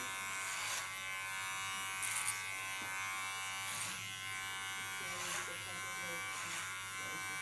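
Electric hair clipper trimming a man's hair, a steady close buzz running throughout with small swells in pitch and loudness as the blade moves over the skin and contour line.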